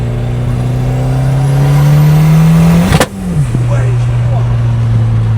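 A car with its exhaust opened revs hard inside a tunnel, a loud sustained engine roar that builds, peaks in a sharp blast, then settles back to a steady drone with echoing reverberation.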